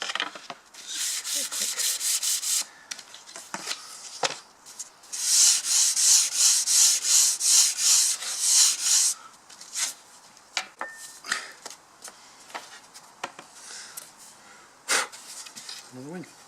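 A balsa wood model aircraft wing for a Pushycat is sanded outdoors on a windy day, with long rhythmic rasping strokes in steady repeated bursts, close and loud, mixed with a voice talking and gusts of wind.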